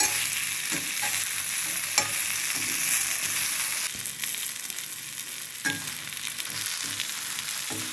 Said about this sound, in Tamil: இப்போ தேங்காயும் நல்லா வதங்கிடுச்சு